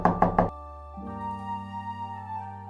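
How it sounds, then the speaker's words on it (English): Three quick, loud knocks strike a wooden house door in a storybook scene, followed by a sustained musical tone with no talking. "the wolf ran straight to the grandmother's house and knocked at the door."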